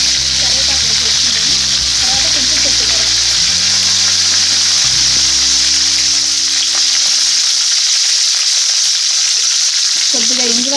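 Cumin and mustard seeds sizzle loudly in hot oil in a pan for Telugu-style raw mango dal, a dense continuous frying hiss with some stirring scrapes early on.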